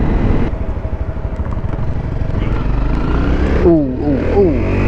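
A dirt bike's engine runs loud and steady close by, its pitch rising and falling near the end as the rider revs it.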